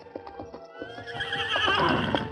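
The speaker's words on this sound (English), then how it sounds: "The gallant horse hobbled to the side of its fallen master" Clip-clop of horse hooves and a drawn-out whinny, staged as a radio drama sound effect for an injured horse hobbling on three legs; steady close hoofbeats lead into a loud neigh.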